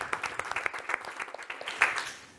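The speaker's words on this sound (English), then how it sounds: "So let's give a round of applause." Applause from a conference audience at a climate innovators event, a short burst of dense clapping rising and fading over a couple of seconds, fairly distant and moderate in loudness.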